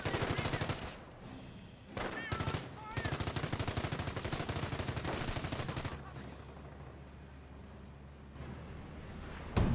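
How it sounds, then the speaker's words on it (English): A .30 cal machine gun rattles in Company of Heroes, rapid sustained bursts of close gunfire broken by short pauses, with faint voices in the mix. "the 30 cal is providing some fire support"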